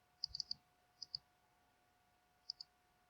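Quiet, crisp computer mouse clicks while working in an Excel spreadsheet: a quick cluster of four, then a double click, then another double click, close and isolated against a faint steady hum.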